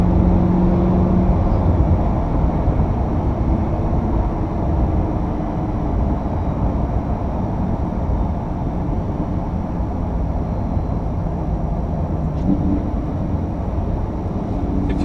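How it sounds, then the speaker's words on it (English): A Lamborghini Huracan with its stock exhaust is heard while driving, giving a steady, dense low drone and rumble that holds throughout with little change and no talking over it. "let you guys just listen to the car and just kind of enjoy the exhaust note. Stock exhaust, but still sounds great"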